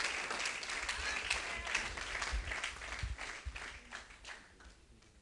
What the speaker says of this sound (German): Und lasst uns Ihnen mal dafür einen Applaus geben